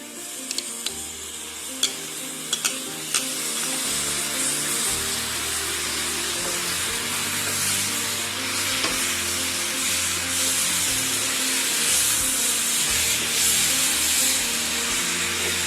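Chopped lemon stirred and sautéed in a pan for a Kerala-style lime pickle, giving a steady sizzle and spattering hiss with occasional sharp spoon scrapes, close and continuous.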